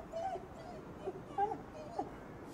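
A dog whimpers in the video game Ghostwire: Tokyo. Several short, faint whines come at intervals over low background game sound.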